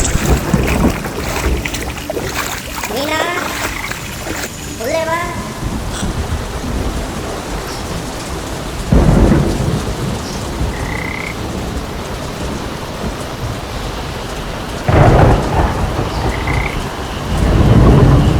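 Steady rain with low rumbles of thunder and croaking frogs for a kids' story, the rain constant throughout, a burst of croaks early on and two heavier thunder swells later.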